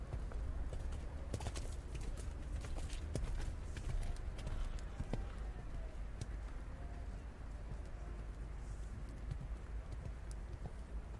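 A horse in a medium canter during a junior eventing dressage test, its hoofbeats faint and distant as soft rhythmic thuds under steady outdoor ambience and crowd murmur.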